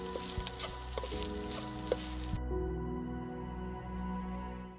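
Rice stir-fried with paneer, egg and vegetables sizzles steadily in a pan, with faint scraping and clinks of stirring, close and quiet, with no voice.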